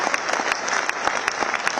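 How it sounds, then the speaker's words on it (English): Applause from a conference audience greets the Vice President of India at the opening of an accountants' gathering, dense steady clapping at even loudness throughout. "A big round of applause, ladies and gentlemen, for the Honorable Vice President of India."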